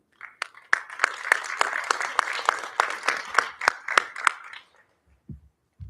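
Sparse, scattered clapping from a small audience at a school board of education meeting: a dozen or so distinct claps of uneven rhythm that thin out and stop, followed by a few soft thumps.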